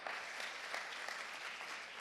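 Audience applause at a church gathering, a steady crowd of many hands clapping at moderate distance, continuous and even throughout.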